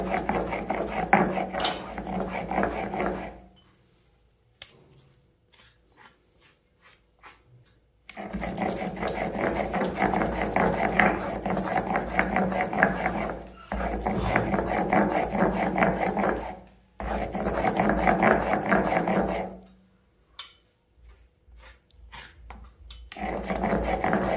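A mixer grinder whirs as it grinds mustard flower paste with salt, a few grains of sugar and garlic. The motor runs loudly in several long bursts separated by brief silent pauses.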